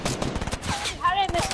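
Rapid bursts of Fortnite gunfire crackle close and loud in quick succession, with voices talking over the shots.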